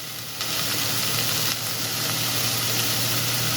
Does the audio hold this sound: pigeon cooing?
no